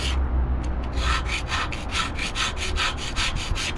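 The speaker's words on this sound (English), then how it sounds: "I got my putty knives out" A putty knife scrapes caked mud off a frame under where a bed sat, in a quick run of about a dozen rhythmic, gritty strokes, close and loud over a steady low background.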